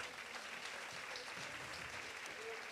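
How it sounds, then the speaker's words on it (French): A gathering at a women's faith testimony event applauds in a continuous, even wash of clapping, heard faint and distant. "On peut l'applaudir."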